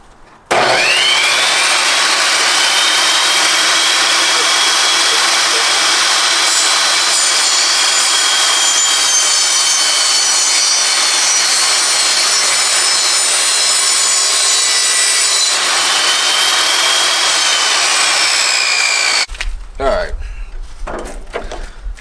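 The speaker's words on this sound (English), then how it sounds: "we're going to do it on the table saw to make these 45 cuts" A table saw makes a 45-degree cut through wide wood, a loud, sustained whining roar that holds steady for nearly twenty seconds before the blade cuts off and clattering handling noise follows.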